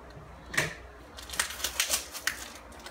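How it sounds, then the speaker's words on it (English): Packing tape on a care package cut with a blade, making a series of quick, sharp scraping rips close by, one at about half a second and a rapid cluster near the end, with no talk. "Let me just cut the tape."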